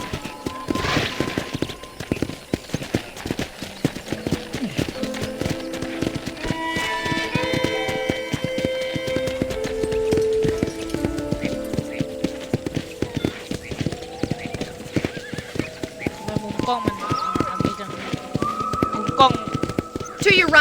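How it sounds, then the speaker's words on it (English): Horse hooves clip-clop in a steady walking rhythm across a ranch property in the Western video game Red Dead Redemption, continuing throughout beneath character voices and background game music. "I picked out a fine horse for you."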